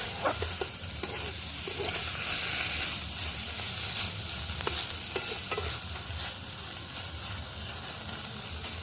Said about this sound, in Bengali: মশলাটা দিয়ে ভালো করে কষিয়ে নেব